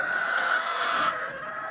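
Chickens kept in a room of a small poultry farm, producing a steady, dense clucking murmur at close range with no talking.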